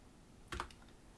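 A short, faint cluster of a few quick keystrokes on a computer keyboard while a website address is typed, heard alone in a quiet room.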